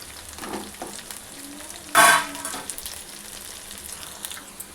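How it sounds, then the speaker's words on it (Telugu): Cauliflower pakoda deep-frying over high heat gives a sudden loud hiss of sizzling oil as pieces drop in, then settles into a quieter, steady crackle. "క్యాలీఫ్లవర్ బాగా క్రిస్పీగా వేగాలి."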